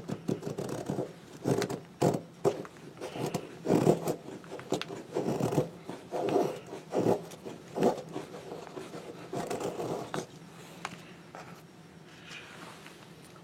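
A large Big Game Hunter hand tool shaves a block of wood into tiny curls, giving a series of close, scratchy rasping strokes in an irregular rhythm with no talking.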